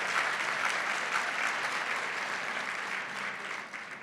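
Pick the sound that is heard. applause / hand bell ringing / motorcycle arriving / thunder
applause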